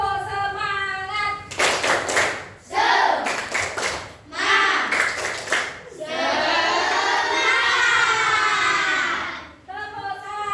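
Children in a classroom clap together in short rhythmic bursts for a tepuk semangat clapping game, the claps mixed with loud group chanting and sung calls, close and lively.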